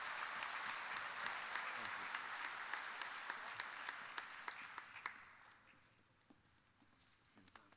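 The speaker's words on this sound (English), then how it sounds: "Can we please give this committee a round of applause for everything that they do for the Moose fraternity?" Applause from a Moose fraternity convention audience for the Activities Committee, a dense wash of many hands clapping that holds steady, then thins and fades out over the last few seconds.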